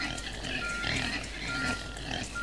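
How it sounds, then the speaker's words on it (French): Pigs grunt continuously in a truck simulator game during a livestock delivery, a dense snuffling and grunting mixed with steady game noise and no speech. "Le petit cochon."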